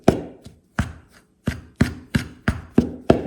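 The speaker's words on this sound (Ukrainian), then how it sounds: "Можна ось так шматочками просто брати, отак сікти ножем." A knife chops pieces of butter into flour on a board, about eight sharp, evenly spaced knocks with short ringing tails, close and clear with no talking.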